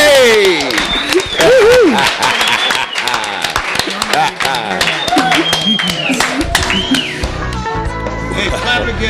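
An audience claps and applauds in a dense patter at a blues performance, mixed with cheering voices and lively sound filling the room.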